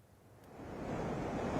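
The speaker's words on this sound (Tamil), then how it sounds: "சென்னை பட்டினப்பாக்கம் பகுதியில் இருக்கக்கூடிய மெரினா கடல் தற்பொழுது சீற்றமாக காட்சியளிக்கிறது" Rough sea surf at Marina beach, Pattinapakkam, Chennai, during heavy rain, a steady wash of breaking waves swelling from faint to a fuller roar, heard alone without voices.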